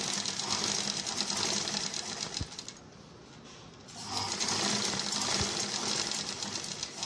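A sewing machine runs in steady, loud bursts stitching along a dori cord for a blouse or dress, pausing briefly midway before resuming at the same even pace.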